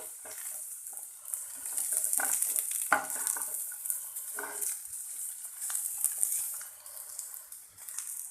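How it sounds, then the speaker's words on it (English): Baby corn being stirred in a frying pan for baby corn chilli dry, a steady close sizzle with repeated scraping stirs and light clinks throughout. "we'll add the baby corn. And mix it neatly."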